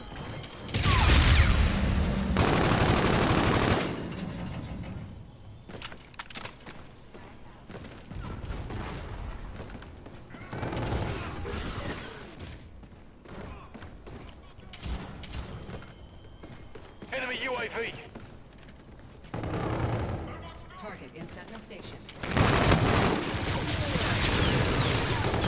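Gunfire bursts in Call of Duty: Infinite Warfare multiplayer, loud rattling volleys and sharp impacts recurring in clusters throughout, mixed with game effects and heavy background noise.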